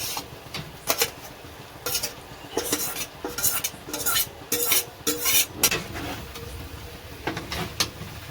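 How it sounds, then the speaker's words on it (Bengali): Vegetables are added to a pan with nut paste and stirred, producing irregular scraping and clanking of a metal spoon against the pan over a soft background sizzle. "এবারে সবজিগুলো যা আছে সব দিয়ে দেবো।"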